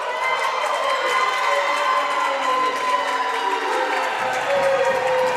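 A large indoor crowd of Wildcat basketball fans claps and cheers in mock applause after a foul, a broad, sustained wash of noise, with scattered shouts rising over it.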